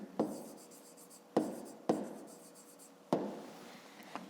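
Handwriting an answer to a fifth-grade maths exercise: a few separate pen strokes close by, each a short scratch fading off, with pauses between and no talking.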